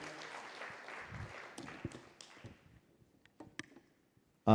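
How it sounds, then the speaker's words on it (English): An audience applauds at a gathering in Africa for Madame Lucy Njenga. A steady round of many hands clapping gradually thins out and fades into scattered claps, ending with a sudden loud bump. "Just another round of applause to Madame Lucy Njenga"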